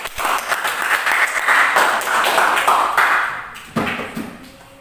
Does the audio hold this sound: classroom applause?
yes